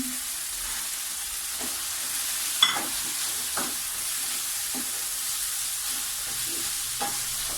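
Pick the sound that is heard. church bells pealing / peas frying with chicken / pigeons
peas frying with chicken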